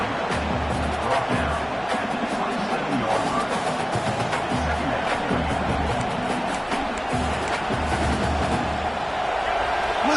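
A stadium crowd at a football rivalry game keeps up a steady, wide roar throughout, with voices talking over it.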